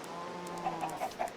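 Chickens in the Minecraft video game cluck four times in a quick, evenly spaced series over a faint steady background tone, close and clear with no talking.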